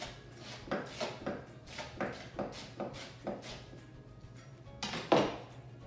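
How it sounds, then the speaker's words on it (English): A knife chops spinach and fruit for a salad on a cutting board in a series of separate thuds and scrapes, with a sharper, louder chop near the end. "Done chopping my spinach salad with the fruit."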